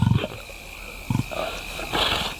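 Lions near a tainted carcass give a couple of short, deep growls, close by against a steady wild-outdoor hiss and faint higher noises.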